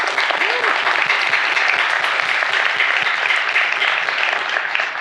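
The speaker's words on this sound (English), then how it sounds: "Please join me to give a round of applause for the mentors and sponsors and partners and workshop providers and everyone who's here today." Dense, loud audience applause at a startup demo day event in Tokyo, a sustained wash of clapping from a large crowd lasting the whole stretch, with no pauses.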